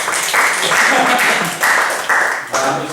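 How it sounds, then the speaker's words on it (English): Student comedy gig audience breaking into bursts of applause, a crowd clapping loudly in repeated waves with voices mixed in. "Clap if you think Emilia was most important."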